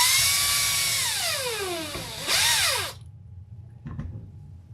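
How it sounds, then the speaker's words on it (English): A power drill whines close by, revving and winding down in long sliding sweeps, then spinning up again before stopping, followed by a quiet clack of handling. "I'm really sorry if that's all you hear tonight is the drill going"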